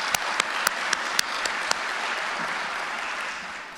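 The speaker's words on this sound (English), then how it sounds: "I think a round of applause is the very least that we can do for them." Applause from a crowd at a fire training academy recruit graduation rolls on continuously, with a run of crisp, evenly spaced close claps standing out early before the sound slowly thins.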